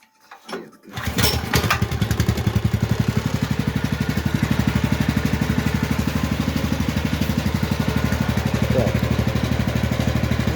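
A Neva MB2 walk-behind tractor engine starting with a brief cranking burst, then settling into a loud, steady, rapid single-cylinder chug that runs on evenly close by, no voices.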